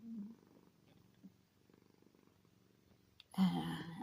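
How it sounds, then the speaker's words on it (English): A cat purrs softly in a low, rhythmic rumble, close by, with a brief louder rustle near the end. "if you can hear her purring again"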